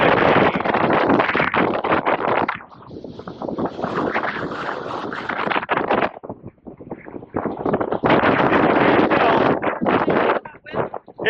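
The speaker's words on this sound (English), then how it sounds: "It's a bit windy." Strong wind at Viking Park in southern Iceland buffets the microphone in loud, rough gusts that rise and drop unevenly, with brief quieter lulls between them.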